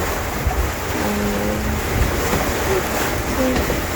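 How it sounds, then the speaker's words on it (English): Steady wind and the wash of waves surround a sailboat at sea on the Mediterranean, a constant broadband rush. Someone talks briefly over it. "So we got a bit of wind back. It's pretty steady."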